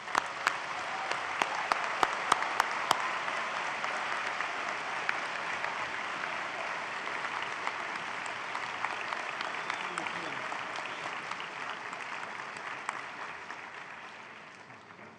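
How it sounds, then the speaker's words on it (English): A large graduation convocation audience applauds graduates who have crossed the stage, a sustained broad roar of many hands with a few sharp nearby claps, fading slightly at the end. "have a round of applause for those who've crossed the stage already"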